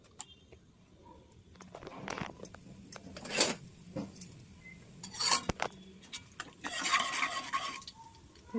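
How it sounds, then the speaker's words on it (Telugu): Mustard seeds and cumin crackle and sizzle in hot oil in a pan, with bursts of popping and scraping stirs rising and falling over several seconds, close and moderately loud without talk. "ఆయిల్ వేడి చేయాలి. ప్యాన్ పెట్టుకొని దాంట్లో కొద్దిగా ఆవాలు."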